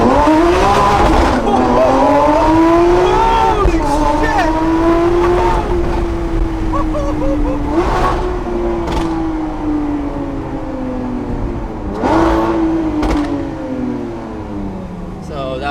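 A straight-piped Lamborghini LP770-4 Superveloce accelerates hard through its gears, its loud V12 note rising and dropping at each upshift, with pops and crackle close to the car while a voice talks and exclaims over the engine.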